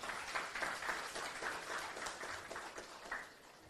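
An audience at a book launch gives a short burst of clapping. The rapid claps sound moderately distant and soft, then thin out toward the end.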